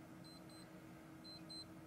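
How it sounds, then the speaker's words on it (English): A small electronic device gives short high-pitched beeps in pairs, two quick tones, a pause, then two more, faint against a quiet room hum, no talking. "But why is it beeping?"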